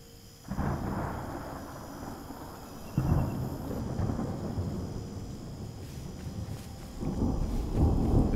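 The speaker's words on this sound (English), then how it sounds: "It's raining now." Thunder rumbles and steady rain in the Smalland survival game, a broad low roar swelling at the start, again around three seconds and near the end, with no talk over it.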